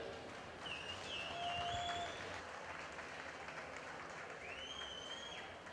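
A show crowd applauds two meat steers at a market steer show, a dense, even wash of clapping sustained throughout at moderate distance, with faint tonal calls or whistles rising over it.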